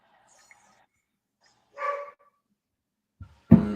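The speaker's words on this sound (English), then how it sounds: "My dog's barking at somebody." A dog barks at someone indoors, one muffled bark followed after a pause by a louder, sharper bark, with near silence between.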